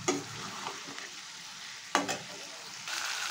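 Boiled ghatkachu taro is stir-fried in a pan over a low gas flame, giving a soft continuous sizzle with repeated spatula scrapes and a sharper clatter midway, heard close.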